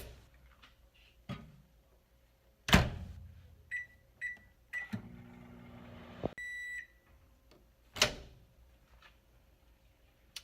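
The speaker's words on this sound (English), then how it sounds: "then it says to microwave on high for 40 seconds." An Ore-Ida omelette kit cooking in a microwave oven on high for 40 seconds; the oven hums briefly between electronic beeps, with scattered clunks and door-like thuds around it in an otherwise quiet room.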